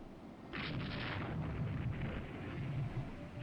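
Naval guns boom in the warship game Rule the Waves 2: a single muffled rumbling burst of fire that rolls on and fades.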